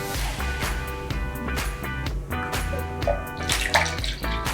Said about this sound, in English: So this, we are going to add water.